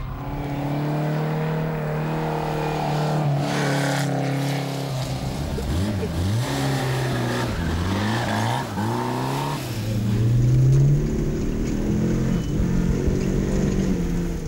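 A Renault 8 rally car at the Monte Carlo Historique 2007 revs its engine close by, a loud buzzing idle that rises and falls through repeated revs before climbing again near the end.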